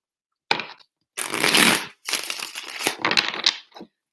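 Tarot cards shuffled by hand in three quick riffling bursts, crisp papery rustles close to the microphone with brief pauses between them.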